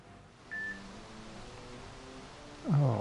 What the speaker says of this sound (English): Oh, why is my phone beeping?